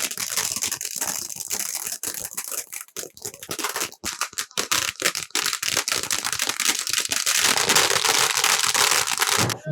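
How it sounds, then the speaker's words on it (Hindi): Firecrackers and fireworks burst in dense, rapid crackling volleys at an outdoor political victory celebration, loud and continuous with sharp bangs scattered throughout. "क्रैकर्स फायर हो रहे हैं, आतिशबाजी हो रही है"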